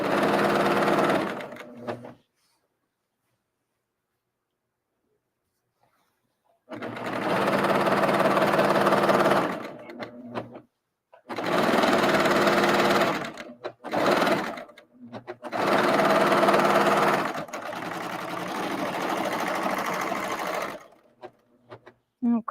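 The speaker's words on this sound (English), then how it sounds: "just want to be sewing it together with our serger and getting rid of all those little frayed bits" A serger overlocker sews and trims the frayed edges of fabric for upcycling, running in several long, loud, steady whirring bursts separated by brief pauses and one long silence near the start.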